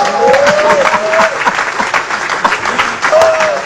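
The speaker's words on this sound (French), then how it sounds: "Ça mérite des acclamations et des amens ici." Congregation at a church service applauding and calling out acclamations, a dense wash of clapping with voices rising over it, sustained steadily across the moment.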